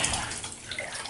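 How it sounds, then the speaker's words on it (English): Water in a bathtub during a child's bath, a close, steady rush of splashing and sloshing with no talk. "Put him in the water, Jeremiah."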